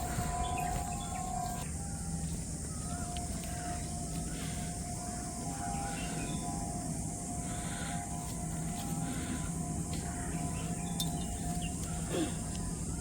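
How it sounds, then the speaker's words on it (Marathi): Faint outdoor ambience of insects buzzing steadily in a high, continuous drone, with scattered bird calls in the background. "आणि किड्यांचा आवाज आहे भरपूरच जास्त आवाज येत आहे"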